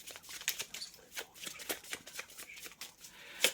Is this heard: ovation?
no